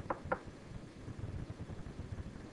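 Two quick knocks on a door, close and distinct, followed by a low murmur of background noise.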